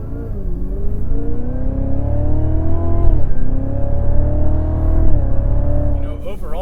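A 640hp Cadillac CTS-V driven on a race track, heard from inside: a loud, steady engine drone whose pitch climbs and dips with throttle and gear changes, with road and wind roar underneath.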